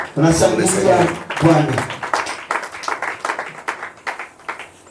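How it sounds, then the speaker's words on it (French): A church congregation breaks into applause, a burst of many hands clapping that starts dense and thins into scattered claps, with a voice speaking over the first part. "Acclamez tout d'abord"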